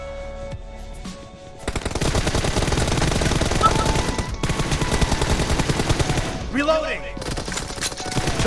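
Rapid automatic gunfire comes in dense, continuous bursts in a mobile shooting game, loud and crackling for several seconds with brief pauses and faint game sounds between.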